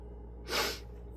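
One heavy, congested breath with an allergy-stuffed sound, drawn close to the microphone, a short breathy rush that swells and fades over a quiet background.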